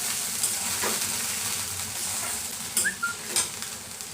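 Paneer and onions fry in a pan as tomato sauce is stirred in for chilli paneer: a steady close sizzle with a few louder stirring clatters toward the end, and no speech.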